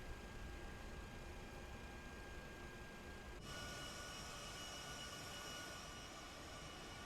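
Steady, dense roar of C-17 Globemaster III jet engines at full power in the MSFS 2024 flight simulator, a continuous broadband rush with no break, heard alone without talk.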